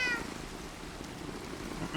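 A pet cat meows close by in a single short, clear call near the start, followed by quiet room tone.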